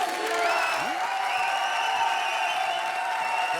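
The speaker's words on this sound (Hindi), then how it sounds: "इसलिए जोरदार तालियों के साथ स्वागत कीजिए" An audience applauding and cheering to welcome a guest at a comedy show, a steady wash of clapping throughout with faint voices under it.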